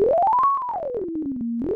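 A pure synthesizer sine tone in LMMS glides upward, holds briefly, then slides down in steps to a low steady pitch before rising again, played alone.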